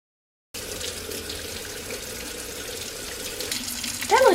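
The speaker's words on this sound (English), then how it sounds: "Lather this up and get all that bleach off of the wig." Running tap water pours steadily into a sink while bleach is rinsed out of a purple lace-front wig, a constant close splashing rush that starts abruptly and swells slightly near the end.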